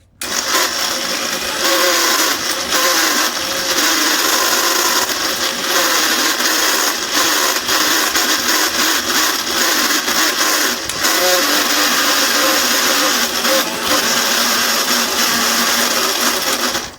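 A kitchen mixer grinder runs continuously at high speed grinding gond and dry fruits for laddu, a loud, harsh whirring whine that holds steady with slight dips, close by.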